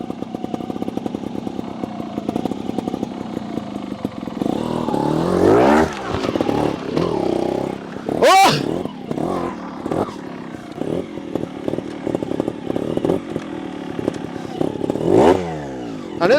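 Sherco SHT 300 Factory trials motorcycle engine running close by, with a steady buzzing note that rises and falls through several short revs, one sharp high blip near the middle, and occasional clattering under it.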